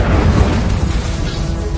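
An Incendio fire spell going off in Hogwarts Legacy on PS5: one loud, close roaring blast of flame with a deep rumbling body that holds steady for under two seconds.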